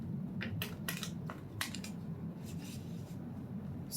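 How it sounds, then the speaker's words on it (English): Cards being shuffled by hand for a love reading, a deck that is a little stiff to shuffle, giving faint, close, scattered riffling clicks and soft bursts with no talking. "These are a little bit harder to shuffle."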